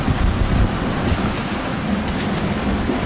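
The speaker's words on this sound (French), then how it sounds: "Il y a toujours cette vague comme ça qui arrive par derrière. Là, et paf!" Ocean waves surge and slap against a sailboat at sea in strong wind of 15 to 25 knots. The rushing water and buffeting wind stay loud and close throughout, with a heavier wash early on.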